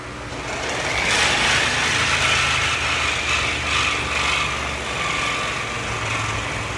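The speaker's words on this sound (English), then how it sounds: "So I think I'm going to try to cut it. Yep. Grab my Sawzall." Sawzall reciprocating saw cutting into a wall, a loud steady buzzing roar that holds continuously for several seconds, close and harsh, with no voices.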